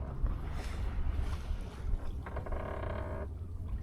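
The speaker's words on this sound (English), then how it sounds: "Can you see how the sails are flapping? Yeah. You can hear them." Outdoors on the water off Lagos, Portugal, a sailing boat's loose sails flutter and rattle in gusty wind, with rushing wind noise over the microphone throughout.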